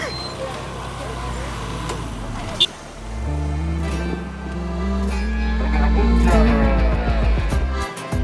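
Road traffic in Meghalaya, India, with engines rumbling and vehicles passing close by under a continuous low drone, a sharp brief click partway through, and a speaking voice mixed in.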